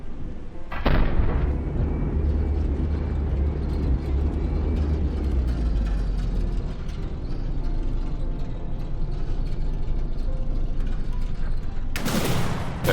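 Guns firing in the video game From the Depths, including new rapid-fire kinetic guns, as a dense continuous rumble of booming fire with a sharp burst at the start and another near the end.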